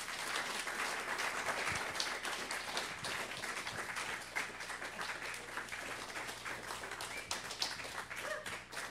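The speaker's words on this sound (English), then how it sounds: "A big round of applause," Audience at a cultural panel discussion gives a sustained round of applause, many hands clapping steadily in a dense, even patter that carries on without talk.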